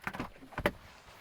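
A heavy door on a Volkswagen ID.5 GTX electric car swings and shuts, giving a few quick close clunks and rattles followed by one sharper slam, with no talking.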